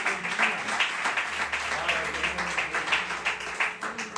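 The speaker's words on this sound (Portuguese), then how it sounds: "Dê uma salva de palmas ao Senhor." Church congregation applauding during a Pentecostal service at Igreja de Nova Vida do Catete, a steady roomful of clapping that holds at an even level through the whole stretch.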